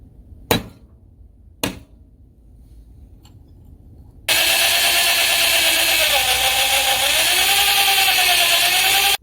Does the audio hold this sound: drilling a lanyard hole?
yes